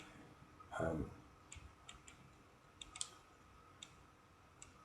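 Faint, scattered computer mouse clicks tick at irregular intervals against quiet room tone, with one louder soft thump near the start.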